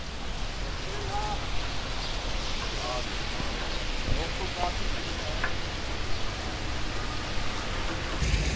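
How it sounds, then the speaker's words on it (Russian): Steady rain patters outdoors in Yerevan, Armenia, in a continuous wash of noise, with faint distant voices and a few brief tones underneath. "Дождь идет, настоящий такой."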